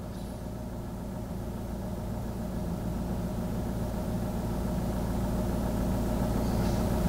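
Mitsubishi Pajero Sport engine idling, heard from inside the cabin as a low, steady hum and drone that holds constant and faint, with no talking.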